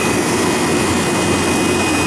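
A refrigeration compressor strains under a restricted drier filter, giving a loud, steady, rough drone with a constant hum and broad hiss that holds without pause.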